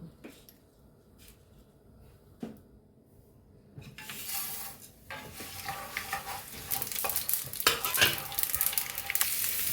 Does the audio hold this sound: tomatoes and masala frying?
yes